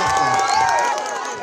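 A crowd at a Congress public meeting in Shivamogga cheers and shouts loudly in a dense, sustained wall of voices that eases slightly toward the end.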